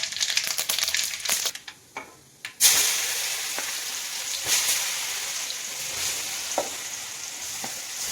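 Grated raw mango with mustard seeds and urad dal frying in oil in a kadai for an instant mango pickle, with a few clattering stirs and bumps at first, then a broad, even sizzle.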